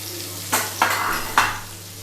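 Ginger frying in a pan of oil for prawn makhni, with three brief stirring scrapes over a steady low sizzle, close and fairly quiet.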